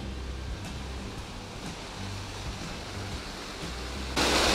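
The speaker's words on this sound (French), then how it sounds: "Et revoilà la petite cascade." A small waterfall cascades nearby, a steady broadband rush of falling water that stays even, with a brief louder surge at the very end.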